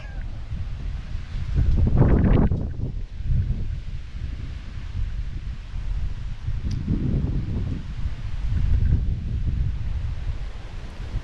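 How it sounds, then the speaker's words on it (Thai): Strong wind gusts roar and buffet the microphone on a clifftop, swelling in several loud surges between quieter lulls. "ลมมากเลย เนี่ย โดนแบบเราก็นึกว่าพายุเข้า"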